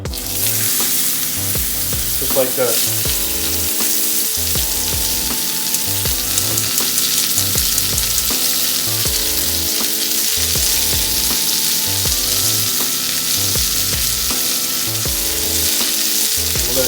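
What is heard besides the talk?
steak sizzling in hot pan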